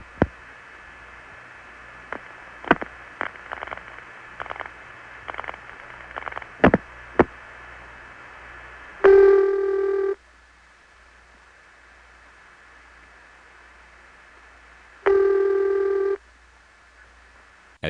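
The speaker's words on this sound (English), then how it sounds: "Here's a call to Coleridge from my Long Island home, made in 1974." A 1974 long-distance telephone call from Long Island to Coleridge, North Carolina, with faint line clicks and static, then two loud ringback tones about six seconds apart over a quiet hissing line.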